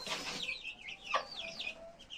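A hen clucks softly and repeatedly while scratching feed out for her chicks, with faint high peeping from the young birds in between, close and alone without speech.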